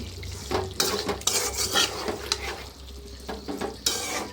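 Fish pieces sautéed with spices in a pan, with light sizzling under repeated clinks and scrapes of a utensil stirring against the pan.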